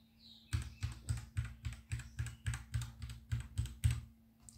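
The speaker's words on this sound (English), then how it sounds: "mostly I will be typing like this only" Typing on a Royal Kludge RK84 V2 wireless mechanical keyboard with Gateron switches, a run of about a dozen evenly spaced, crisp clacking keystrokes close up, alone with no talking.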